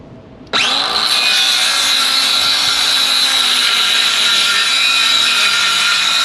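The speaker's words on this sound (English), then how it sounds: "what I'm going to do now is just do an angled cut, a 45-degree angle cut, and let's see how it handles cutting on an angle in this board" A cordless circular saw spins up sharply and cuts a 45-degree angled cut through a board, a loud, close, sustained high whine with steady blade rasp and no talk over it.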